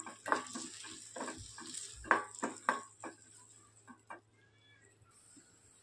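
Turmeric is sautéed in a pan for a tempering, heard as a spoon scraping and tapping the pan in quick irregular strokes over a quiet background.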